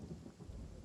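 Rain and distant thunder in Genshin Impact make a faint, low rumbling wash of steady rainfall, heard quietly and without voices.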